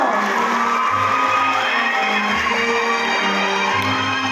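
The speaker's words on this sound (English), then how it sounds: "Give a round of applause to Mr. Renzel Mayo." A crowd at a school intramurals opening ceremony cheers and whoops for a Vietnam taekwondo bronze medalist, a continuous dense roar of voices with tonal shouts rising over it.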